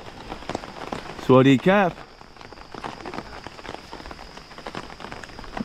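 Steady rain falls on surfaces outdoors on Koh Phayam, Thailand, a constant hiss and patter under brief speech from a person talking.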